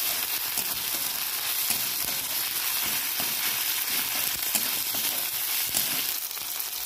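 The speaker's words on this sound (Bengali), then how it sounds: "ভালো করে একটু ভেজে নেবো।" Ginger paste fries in a pan with a steady, dense sizzle that holds loud and even throughout, broken by faint scraping as it is stirred.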